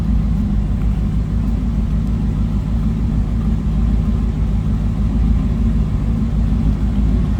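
A 1985 Chevrolet Camaro Z28 engine idles steadily with a deep, continuous low rumble, loud and close, heard from the rear, with no talking.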